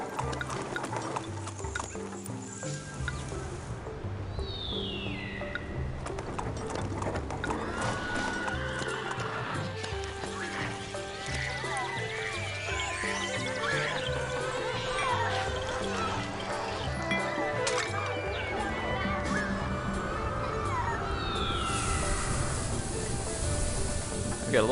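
Cavalry horses in a strategy video game whinny and neigh repeatedly, with clip-clop hooves and faint background music running underneath throughout.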